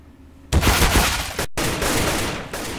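AK rifle fire in a competitive Counter-Strike-style match, a loud close burst that breaks into sustained rattling automatic shots with a brief gap partway through, dense and continuous to the end.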